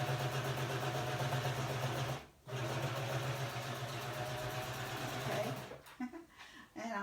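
Sewing machine stitching straight across fabric, a steady close mechanical whirring hum that pauses briefly, runs on, then stops with a few clicks and light handling sounds.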